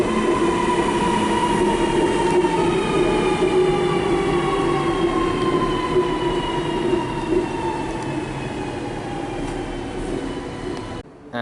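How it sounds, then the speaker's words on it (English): A Waratah electric train pulls into Chatswood station in Sydney on a Hornsby service, its traction motors whining down in pitch as it slows, with the rumble of the carriages loud and close and no voices. "we've got this Waratah arriving for a Hornsby service"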